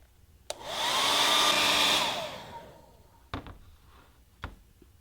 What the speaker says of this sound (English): Heat those seams again with the hairdryer or the heat gun for 10 to 20 more seconds.